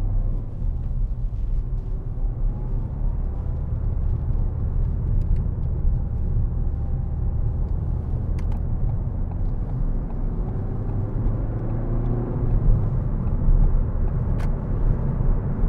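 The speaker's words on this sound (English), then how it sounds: "Great engine, this Ford diesel." A 2014 Ford Fiesta 1.5 TDCi diesel, Titanium trim, heard from inside while driving: a steady low engine and road rumble that holds even throughout, with no talking.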